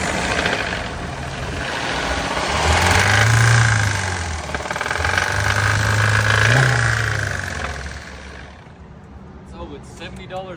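A car engine with an oil change 30,000 miles overdue, running with a rough, knocking rattle that swells and eases twice before dying away, while a person talks over it.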